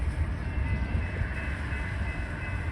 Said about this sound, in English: And it's a loaded coal train.